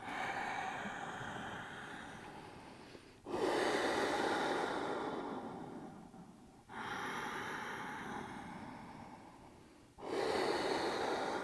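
Three long breaths during a yoga flow, each a steady airy rush lasting about three seconds, broken by sharp restarts; close and fairly quiet, with no talking.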